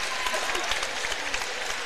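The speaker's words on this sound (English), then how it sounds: "a round of applause" Steady applause from a crowd in a gym at a high school basketball game, clapping for an injured player walking off, with some background voices mixed in.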